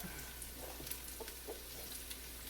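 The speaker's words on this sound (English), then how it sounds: "I am going to just kind of wilt my onions, and then let me get my garlic in here and soften it up a little bit" Onions and garlic softening in a frying pan, giving a faint, steady sizzle with a few soft crackles and no talk.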